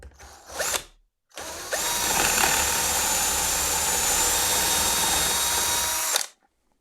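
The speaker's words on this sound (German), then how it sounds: "Und bohren von oben mal rein." A power drill bores down from above through a jig into a workpiece, drilling an 8 mm hole: a short whir, a pause, then a long steady high-pitched whine that runs about four seconds and stops abruptly, loud and close.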